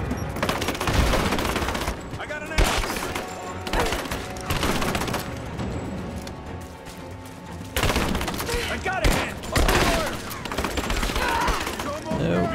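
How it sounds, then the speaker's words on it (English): Repeated loud shotgun blasts at close range in the video game Rise of the Tomb Raider, in irregular bursts amid dense combat noise, with a voice speaking between shots. "Shotgun from this close by should probably do a bit more damage."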